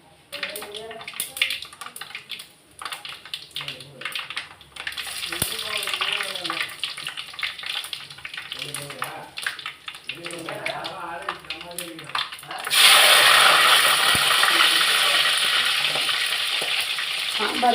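Mustard seeds and fenugreek frying in hot oil for a garlic kulambu: a voice talks over faint crackling at first, then the sizzle surges into a loud, steady hiss that holds to the end.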